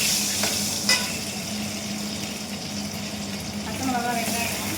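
Mustard seeds, cumin and chana dal tempering in hot oil for a raw banana fry, a steady close sizzle with stirring scrapes and a few faint voices in the background.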